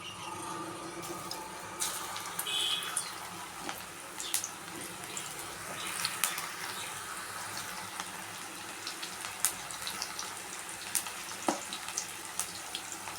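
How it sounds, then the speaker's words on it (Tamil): Okra kurkure deep-frying in hot oil gives a soft, steady sizzle with scattered small pops and crackles, fairly quiet and close, with no talking. "இது அப்படியே எண்ணெயில் போட்டு பொரிக்க வேண்டியதுதான்."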